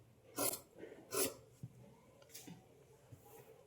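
Scissors cutting blouse fabric along the outlines, two distinct rasping snips up close followed by softer, fainter cuts and light rustling.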